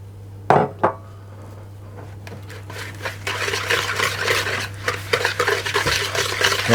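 A whisk beats sugar into a mixture in a bowl for oatmeal cookie dough, starting with a couple of sharp clinks, then building into a steady, busy scraping and rattling that runs continuously close up.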